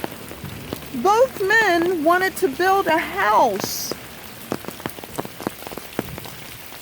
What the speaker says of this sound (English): it is raining out here. It's raining pretty hard.